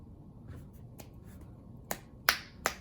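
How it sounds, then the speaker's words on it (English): Finger snaps heard through AirPods Pro transparency mode, several sharp clicks, faint at first and then three louder distinct snaps near the end, alone over a low room hum. "I can hear my snapping really well"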